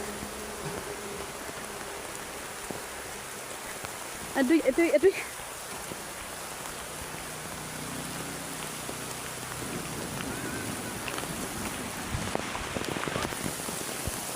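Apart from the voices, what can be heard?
rain falling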